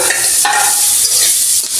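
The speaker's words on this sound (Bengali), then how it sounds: "পেঁয়াজটা একটু ব্রাউন করে ভেজে নিব" Onions fry in a pan of oil, crackling with a loud, close sizzle over a short stretch while a spatula stirs and scrapes them.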